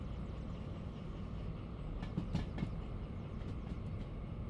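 A freight train rolls through a yard in the Derail Valley simulation game, a low steady rumble with a few faint metallic clanks midway, fairly quiet throughout.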